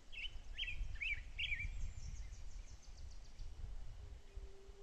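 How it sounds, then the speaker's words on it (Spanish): Small birds sing in scrubland, opening with a clear run of four or five quick chirped phrases nearby, then fainter twittering and a drawn-out whistle further off over a low outdoor rumble. "Qué bonito los pajaritos aquí cantar."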